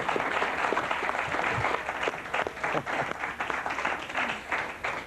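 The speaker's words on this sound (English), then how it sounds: "Give him some applause" A studio audience at a 1980-81 high school quiz bowl applauds a Morgan City competitor, dense steady clapping at moderate level that continues for several seconds and thins slightly toward the end.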